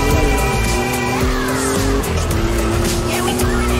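Car engine from the Forza racing video game, loud and continuous, with rising engine tones and tire squeal throughout while the car is driven on a game controller.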